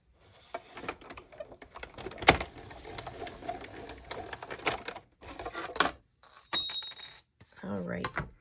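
A die-cutting machine pressing cutting plates through for card making, with a steady mechanical rolling and grinding run followed by clicks and clatter, close by, with a person speaking briefly.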